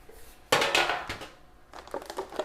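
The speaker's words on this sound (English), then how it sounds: "So a baking pan." A metal baking pan, set out for oven-baking salmon, clatters sharply as it is handled, one loud bang then scraping and rattling, with softer clinks returning near the end.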